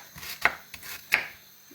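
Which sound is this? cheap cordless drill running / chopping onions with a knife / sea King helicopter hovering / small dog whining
chopping onions with a knife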